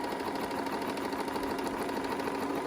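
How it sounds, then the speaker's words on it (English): A small sewing machine runs a seam at a quilting block demonstration, a steady, even mechanical whir with fast rhythmic needle ticking, close and unbroken throughout. "we're going to sew all the way to the end."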